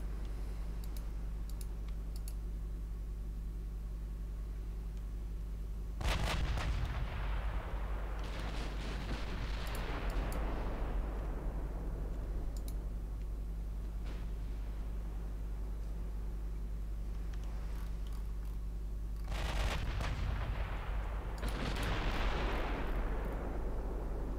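Battleship main guns firing in a 1910-era naval battle in Ultimate Admiral Dreadnoughts, a loud booming salvo near the start and another near the end, each rolling off into a long rumbling decay over a steady low engine drone.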